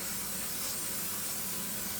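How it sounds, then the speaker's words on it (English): A short, steady hiss of canola oil cooking spray onto a pan, a single continuous burst lasting about two seconds. "Let me get my kitchen spray and spray my pan with it."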